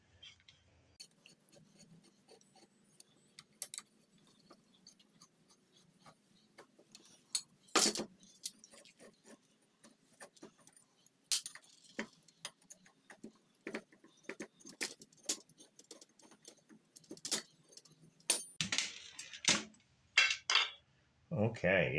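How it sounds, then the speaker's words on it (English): An Allen wrench working to separate a winch spool from its main assembly: scattered metallic clicks, clinks and rattles of tool against metal parts, sparse at first and growing busier and louder toward the end, with occasional low voice. "separate this spool from the main assembly using an Allen wrench here"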